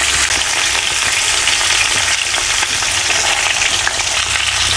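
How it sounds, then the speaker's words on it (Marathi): Stuffed bitter gourds fry in oil on a tawa with a loud, dense, continuous crackling sizzle close up, with faint stirring or turning sounds mixed in and no talking. "बघा इथे तेलामध्ये छान असं परतलेले आहेत कारली."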